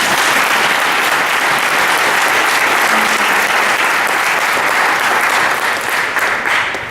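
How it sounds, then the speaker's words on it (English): Loud sustained applause from a large audience at a high school varsity baseball banquet, dense even clapping filling the room and tapering slightly near the end. "please give these guys a round of applause."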